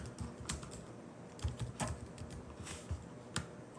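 Typing on a computer keyboard, a loose run of close, clicking keystrokes with uneven rhythm and several sharper key strikes, with no talking.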